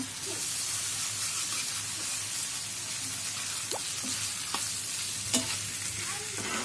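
Prawns fry in hot oil with ginger-garlic paste for a stem-vegetable curry, giving a steady, loud sizzle and hiss broken by occasional scrapes of a stirring utensil.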